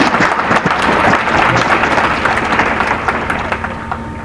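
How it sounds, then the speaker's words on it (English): An audience at a student game awards ceremony clapping, a dense burst of applause that is loudest at the start and gradually thins out. "You can clap for me."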